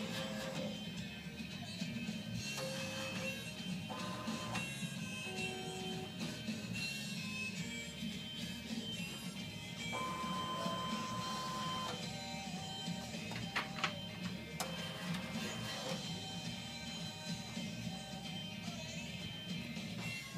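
A shirt printing machine runs steadily for the whole stretch, a smooth, even mechanical hum with a low rumble, faint higher whirs and a few light clicks and tones, and no talking.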